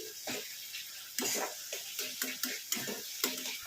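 Black chickpea curry is sautéed in a pan, with soft wet sizzling and a spoon scraping and stirring in uneven strokes, close and fairly quiet.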